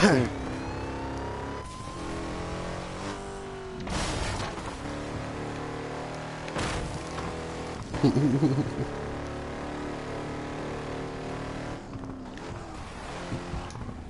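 A car in the racing video game Burnout revs and accelerates, its engine note rising and falling through gear changes over several seconds, with people talking over the game sound.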